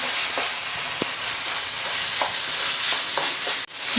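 Tomatoes tipped into a pan of chicken kurma sizzle steadily, with a few sharp clinks and scrapes of a stirring spoon breaking through the frying hiss.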